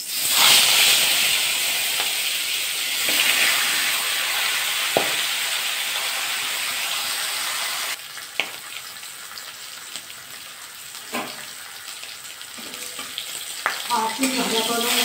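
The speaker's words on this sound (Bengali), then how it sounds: "মাছের মাথাটা ভাজা করে নিই।" Marinated rohu fish heads fry in hot oil in a wok, a strong steady sizzle that eases slightly midway, with occasional clinks and stirring knocks.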